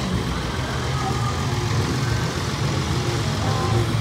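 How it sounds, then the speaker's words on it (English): Steady engine rumble from several race cars revving at an auto speedway stadium, low and continuous, holding at a constant loud level with no pauses. "These guys are really revving their engines and sound very, very ready to go."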